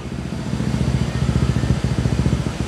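A Honda ADV 160 motorcycle fitted with an aftermarket muffler exhaust idles close by, giving a steady, loud, throbbing low rumble with quick even pulses.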